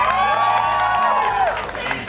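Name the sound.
audience cheering a critical hit dice roll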